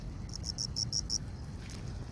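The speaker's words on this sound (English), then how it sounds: "let's find the exact cricket that I hear." A cricket chirps outdoors on a college campus, a rapid train of six bright pulses followed by a fainter chirp, heard close and alone over a low background rumble.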